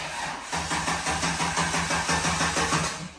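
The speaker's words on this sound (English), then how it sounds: "Hit the key and pray that it cranks." A Holden VY Calais drift car, freshly swapped to an L67 engine, cranks with a loud, steady rhythmic churn that holds for about three seconds, with no voices.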